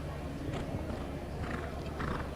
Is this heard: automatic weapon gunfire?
no